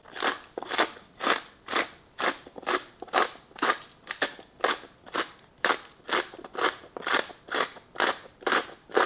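Salt grinder set to its coarsest crush turning Redmond coarse salt, a steady run of about twenty close, loud, crunching grinds in an even rhythm with no talking.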